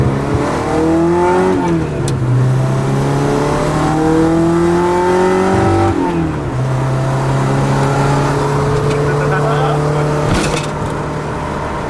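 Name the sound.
Kei truck engine revving while driving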